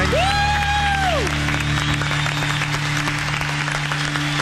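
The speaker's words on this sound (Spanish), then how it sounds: "aplaudan, chicos" A studio audience on an Argentine TV variety show, Club del Moro, claps steadily, a dense and even wash of applause with a brief whistle-like tone near the start.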